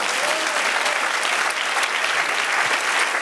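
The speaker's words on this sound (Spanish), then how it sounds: "Dale aplauso al Señor." Steady, dense applause from a church congregation during a Spanish-language evangelical service, filling the room evenly and continuously with no voices standing out.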